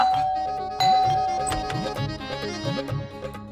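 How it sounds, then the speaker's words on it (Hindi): A doorbell chimes in a household scene of a Hindi TV serial: a long ringing tone, then a repeating melodic ding-dong pattern of bell notes that carries on to the end, with no talking. "हमको लगा कि शायद किसी को घंटी की आवाज ना सुनाई देगा"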